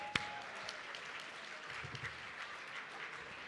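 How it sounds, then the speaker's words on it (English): Steady applause from an audience greeting the finalists at a Scottish whisky awards ceremony, dense even clapping that carries on throughout with a sharp single clap near the start. "Let's get a round of applause for all our finalists"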